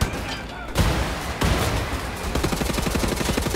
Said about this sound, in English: And then open fire and blitz the rest of them